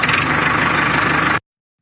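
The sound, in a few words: tractor engine running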